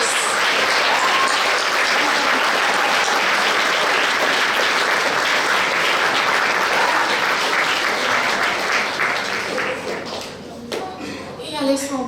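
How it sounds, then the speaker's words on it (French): An audience at a regional science fair final in Québec applauds the winners, sustained loud clapping that carries on for several seconds before thinning out, with a voice speaking at the end. "On les applaudit les deux!"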